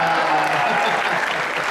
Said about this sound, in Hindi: ताली बराबर बजाई आपने